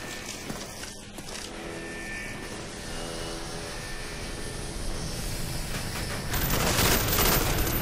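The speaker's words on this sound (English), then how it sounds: "Spy planes in the air." A spy plane passes overhead in a Call of Duty Black Ops team deathmatch, a droning aircraft engine that swells louder toward the end, heard alone without talk.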